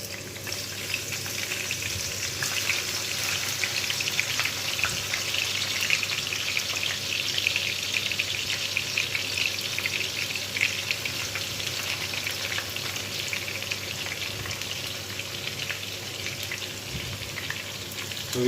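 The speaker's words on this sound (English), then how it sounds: "we're going to start frying those onions" Thinly sliced onion frying in hot oil in a pan for a Spanish omelette, a continuous close crackling sizzle with small pops and spits, steady throughout with no voices.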